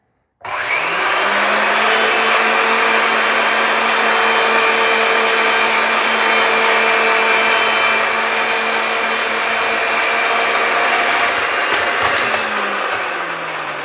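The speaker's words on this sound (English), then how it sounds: "as the machine cuts and turns, you get a feel for it" A Ridgid 300 pipe threading machine cutting threads on steel pipe runs with a loud, steady motor whine and grinding drone, starting up abruptly and holding constant for over ten seconds with no talk.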